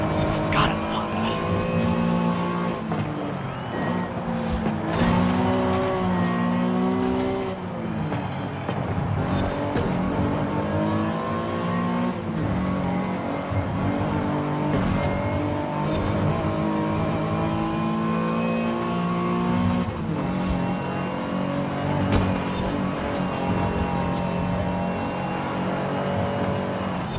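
A race car engine in Forza Horizon 5 drives a Flying Spur or 400Z Nismo. It revs continuously, climbing and dropping through repeated gear shifts, loud and sustained throughout, with an occasional voice underneath.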